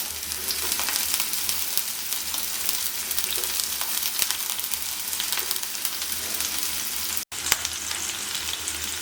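Shallots, green chillies, cinnamon, bay leaf, cardamom and cloves fry in a pan for a mutton liver dish, giving a steady, dense sizzle that continues unbroken except for one brief dropout.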